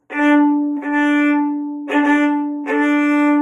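Four bowed violin strokes on the same low note, each starting with a crisp attack, separated by short gaps and bow changes, close and clear.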